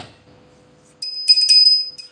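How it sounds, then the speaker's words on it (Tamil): Small metal prayer bell in a home shrine, rung briefly with a bright, high ringing tone after a moment of quiet, sounding close and clear with no talking. "இந்த மணியே பெருசு வாங்கணும்னு நினைச்சிருந்தேன்"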